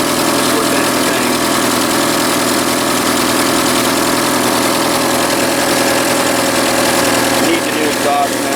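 A 1982 Chevrolet Camaro third-gen engine, fed from a fuel cell, idles steadily after its first start in twenty years, a loud close rumbling drone with an uneven knocking texture and no air filter fitted.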